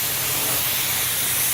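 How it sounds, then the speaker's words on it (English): A spray gun lays Createx candy paint onto an aluminum panel in a steady, loud, unbroken hiss. It is close and runs the whole time with no pauses. "the ticket is going to be to just spray your palette. Put a nice medium wet coat on."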